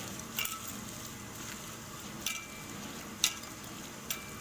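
Biryani ingredients, deep-fried mint and fried onions among them, are stirred together in a pot with soft intermittent scrapes and clinks over a faint steady sizzle.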